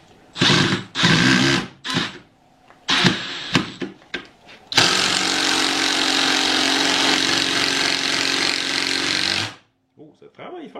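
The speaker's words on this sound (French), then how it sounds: "Ça, c'est l'impact régulier, le bruyant." A Milwaukee M12 impact driver working hard, with several short bursts separated by pauses followed by one long, loud, sustained rattling hammering run of about five seconds that cuts off abruptly.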